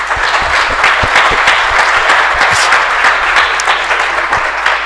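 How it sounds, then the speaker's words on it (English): Loud, sustained applause from an audience at a panel on South Africa's 30 years of democracy honours a professor, with many overlapping claps and sharp individual hand strikes throughout, no voices. "Can we please give Prof a round of applause?"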